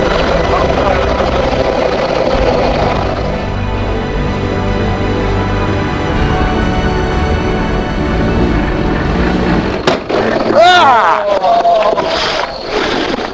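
Formula 2 race car engine revving loudly and continuously up close, with rising tones near the end as the car pulls away.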